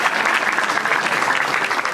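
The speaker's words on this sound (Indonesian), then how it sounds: "Tepuk tangan untuk Alif." A stand-up comedy audience applauds a comedian named Alif, steady dense clapping that holds at full strength for the whole stretch without any voice over it.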